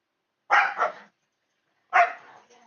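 Dogs indoors bark in two short bursts, each a pair of sharp barks separated by a pause of quiet, fairly close and clear with no talking.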